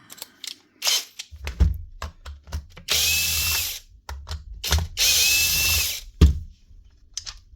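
A power drill whirs in two sustained bursts while removing screws from the motor of a DeWalt D25810 hammer during a teardown, separated by ratcheting clicks, handling knocks and rattling of parts.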